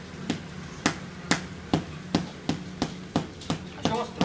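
A hammer knocks repeatedly while a play house is built from a carpet, about ten evenly spaced sharp strikes close by, with no talking.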